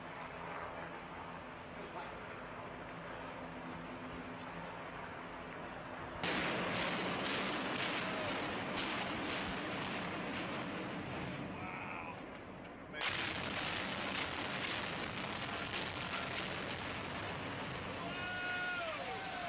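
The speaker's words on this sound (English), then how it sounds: "I'll show you what controlled demolition is." Controlled demolition of a 12-story building, with two bursts of loud, rapid, crackling explosive charges set against constant background rumble and voices.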